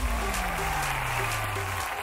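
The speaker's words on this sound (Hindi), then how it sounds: "जोरदार तालियां उज़्मा और बुशरा के लिए।" A studio audience at a televised twin-contestant competition show applauds in a brief, loud burst, with a low descending musical tone sweeping underneath.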